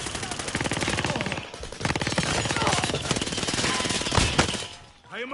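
Rapid automatic gunfire, loud and close, rattling in dense bursts nearly nonstop with only a couple of brief gaps.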